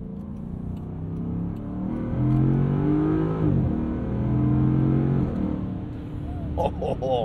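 A 2022 Land Rover Defender 90 with a V-8 engine accelerates hard, its deep engine note rising through the gears with a shift in the middle, loud and steady inside the cabin, with a brief voice near the end.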